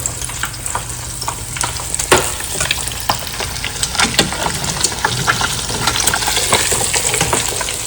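Speckled trout fillet sizzles and crackles steadily in a hot frying pan, a close, continuous fry with scattered pops and spits and no voices.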